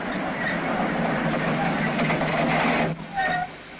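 A train running on rails at the Soviet frontier with Turkey, a steady close rumble and rattle of wheels with faint squeals, the noise dropping near the end.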